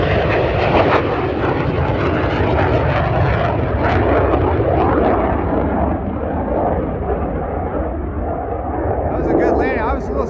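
Boom XB-1 supersonic demonstrator jet landing on its first flight, a loud continuous engine roar with wind noise throughout, while people talk over it.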